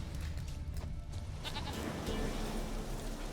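A goat bleats in The Witcher 3 over a steady, dense game ambience, its cries blending into the continuous background rather than standing out sharply.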